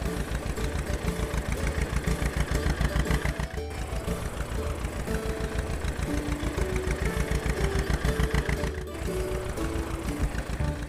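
A small toy mini tractor engine runs steadily and close up, a continuous rhythmic puttering idle with a brief dip partway through, with no talk over it.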